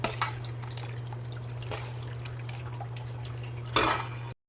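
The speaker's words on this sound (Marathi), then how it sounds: "मी चाळणीत घातले म्हणजे पाणी सगळं निथळून जाण्यासाठी पाणी सगळं निथळायला लागले" Quiet trickling and dripping of water draining from green peas through a colander, with a low steady hum underneath and a louder splashing burst near the end.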